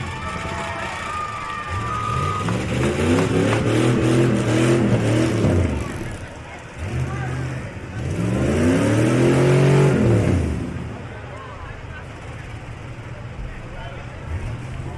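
Monster trucks rev their engines at a county fair truck event, the deep motors rising and falling in two long surges with shouting voices in the crowd.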